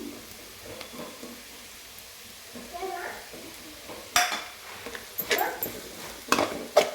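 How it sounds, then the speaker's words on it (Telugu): Coconut, rock salt and chilli powder mix being stirred into carrots frying in a pan, with scraping and clinking of a spoon against the pan that grows louder and more frequent toward the end, over a low background. "ఈ మిశ్రమాన్ని ఇందులో వేసేసుకొని కొంచెం బాగా కలుపుకున్నాము"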